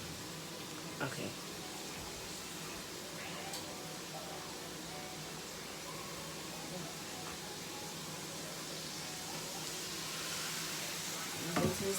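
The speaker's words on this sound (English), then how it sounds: "Until it stops sizzling now." Steady, hissing sizzle of oil frying fries fills the clip at low level, with a few faint clinks and knocks.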